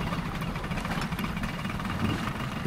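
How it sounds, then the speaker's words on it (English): A sailboat's engine runs at sea, a steady low droning rumble with constant vibration and no pauses, loud and close throughout. "It seems as if we've been running the engine almost constantly."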